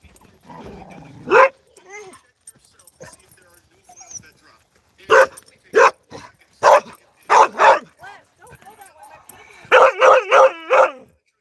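A dog barks outdoors in Arizona in repeated loud, sharp bursts, first singly and then in quick clusters, fairly close by.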